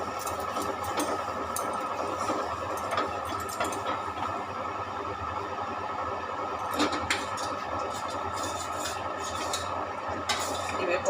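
Potatoes stirred in ghee in a pan: continuous frying hiss with clinking, scraping utensil strokes against the pan, fairly close and steady for the whole stretch.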